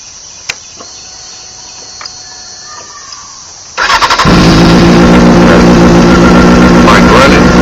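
A 2001 Honda CBR600 F4i motorcycle engine cranks and catches after a few quiet seconds, then settles into a loud, steady idle close by.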